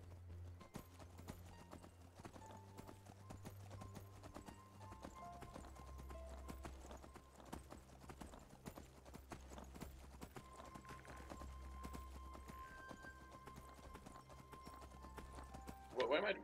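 Horse hooves clip-clop in a steady, rapid rhythm while riding in Skyrim, soft and continuous throughout with a voice speaking briefly over them.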